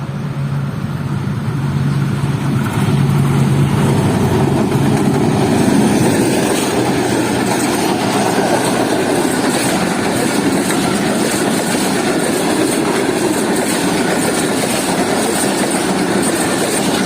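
The Baba Farid Express passenger train rolls past in a man-made forest, close and loud, with a continuous rumble and a rhythmic clatter of wheels on the rails that holds throughout.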